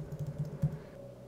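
A password being typed on a computer keyboard, a quick run of soft, close key clicks in an uneven rhythm with one slightly louder tap, quiet overall.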